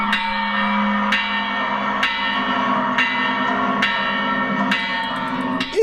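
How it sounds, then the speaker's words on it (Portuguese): A bell rings out in a large public square during a Mexican independence celebration, striking roughly once a second with ringing overtones that hang over a steady crowd murmur. "Aí ele toca um sininho."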